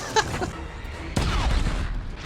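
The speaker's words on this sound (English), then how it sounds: "I'm registering multiple explosions near the refinery" Explosions in a Star Wars The Bad Batch episode near a refinery: a loud broadband blast hits midway and rumbles on with crackling debris, after an earlier sharp pop, with faint voices mixed in.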